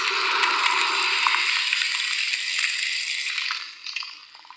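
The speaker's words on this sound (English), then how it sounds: "redid the hum, so it sounds like ice" A lightsaber hum effect made to resemble ice: bright, crackling and hissy with a grainy icy texture that holds steady and then fades out.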